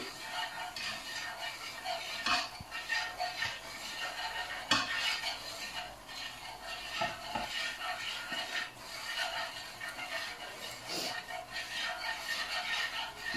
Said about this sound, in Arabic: غادي نقلي مزيان الدقيق ديالي في الزيت يتحمر مزيان